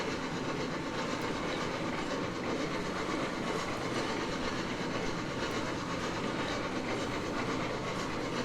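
A steam locomotive in the game Railroads Online labors up an uphill grade, a dense steady rumble of rolling wheels and rail clatter that holds at constant loudness throughout.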